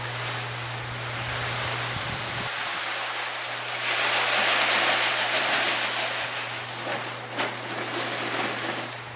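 Grain being poured into hot strike water for a home brewing mash, a continuous hissing, rushing pour that swells in the middle and carries on over a steady low hum.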